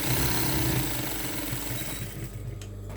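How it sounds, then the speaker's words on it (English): A sewing machine stitches through fabric layered with sponge, giving a rapid, steady mechanical whir close up. It softens and fades slightly over the last second. "So let us go on the sewing machine and see what to do."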